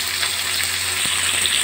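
Potato and pumpkin chunks frying in a pan give a steady, loud, hissing sizzle with no pauses.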